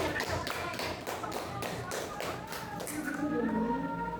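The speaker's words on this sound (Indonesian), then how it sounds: "tepuk tangan" Students in a classroom clap together in a brief burst of rapid, fairly steady applause that trails off into quieter room noise and murmuring.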